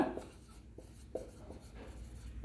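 A marker or chalk writes on a board during an English lesson, with a few short, faint strokes and taps spread over a quiet room.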